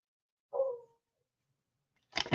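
Dogs outdoors give one short, distant howl-like cry, then silence, followed by a brief louder rustle at the end.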